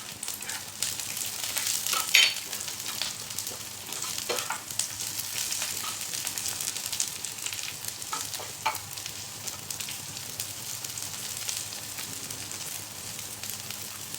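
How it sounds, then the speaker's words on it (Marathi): Onion, garlic and ginger roasting in a pan for a traditional spicy curry, a soft continuous sizzle with intermittent scraping stirs, fairly quiet and close, with no talking. "कांदा भाजत आलेला आहे, त्यामध्ये आता आपल्याला लसूण घालायचं आहे."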